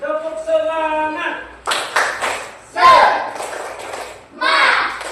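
Schoolchildren in a classroom perform the 'tepuk semangat' clapping chant, with short bursts of rhythmic group claps mixed with chanting voices. An adult voice speaks first.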